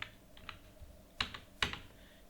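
A few soft keystrokes on a computer keyboard while entering payroll details in Tally Prime accounting software, quiet and close, with two sharper key presses standing out near the end.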